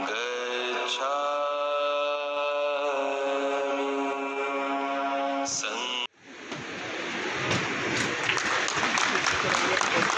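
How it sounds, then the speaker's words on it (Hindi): A tonal hum or music runs for several seconds, then dense applause breaks out and continues steadily to the end, at a public gathering marking Ambedkar Jayanti. "जोरदार तालियां साथियों, जोरदार तालियां, तालियां रुकने ना पाए।"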